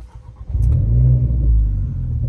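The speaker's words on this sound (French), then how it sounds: "Je vais démarrer la voiture" A car in a racing simulator game cranks and catches, then its engine settles into a loud, steady low rumble with a slight rev, heard alone and close.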